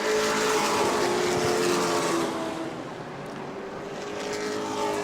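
Pro late model race cars at New Smyrna roar through turn one in heavy traffic, a loud continuous engine drone with shifting pitch as cars pass close by.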